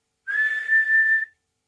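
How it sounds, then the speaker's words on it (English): A person whistles a single steady note, clear and close, held for about a second against silence. "Arthur whistled a single note like Dad used to."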